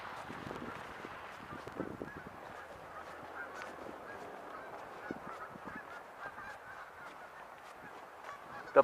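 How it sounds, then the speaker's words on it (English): Geese honking on a frozen pond during a December snowstorm, a steady faint chorus of many overlapping honks from a distance, with no voices over it. "And look at the geese in the pond."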